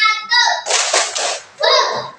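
A classroom of children gives a few quick bursts of clapping on a count, close and loud, with their chanting voices just before and after.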